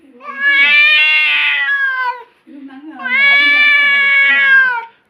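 A cat gives two long, loud, drawn-out meows close by, separated by a brief pause, sounding agitated and angry.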